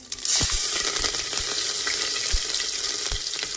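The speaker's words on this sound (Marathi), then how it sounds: "गरम झाले मस्त तेल जिरं जिरं टाकले" Cumin seeds sizzling in hot oil, a close and bright crackling hiss that starts sharply and keeps going, broken by a few low knocks from the pan, with no voices.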